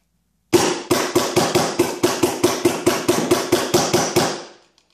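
An Automag paintball marker with an Angel frame fires a rapid string of about sixteen sharp, evenly spaced shots, loud and close, ending with a short fading tail.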